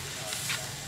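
Honey-glazed pork ribs sizzle on a grill in a brief, steady hiss with a soft crackle partway through.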